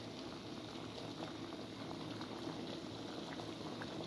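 Spaghetti boiling in a pot of water on the stove, a steady close bubbling and gurgling simmer that holds at an even level throughout with no talking.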